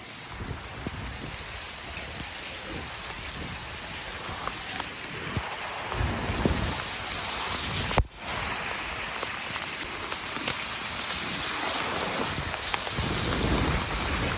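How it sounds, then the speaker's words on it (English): Steady heavy rain pours down continuously, with a dense hiss and rumbling undertones throughout, no voices. "That is the rain right there."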